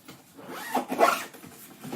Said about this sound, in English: And so you just zip that up.